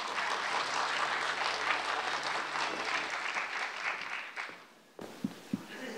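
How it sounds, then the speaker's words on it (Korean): An audience at a public mathematics lecture in a Korean lecture hall applauds to welcome the speaker, a dense steady round of clapping that thins and fades out near the end, followed by a few isolated handling knocks. "모두 박수로 환영해 주십시오."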